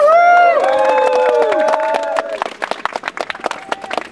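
A crowd at a resquatting of a house on Swammerdamstraat breaks into applause after cheering and whooping voices, scattered loud claps close by growing more sporadic.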